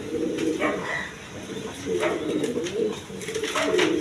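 Lahori pigeons coo in a cage, with repeated low, soft cooing phrases in steady bursts that sound close by, joined by a few faint higher chirps.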